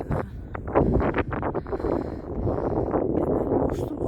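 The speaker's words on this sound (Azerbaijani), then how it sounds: "İndi də növbət o tərəfə külək də əsir" Gusty wind buffets the microphone high on a bridge above a railway, loud rumbling bursts followed by a steadier roar.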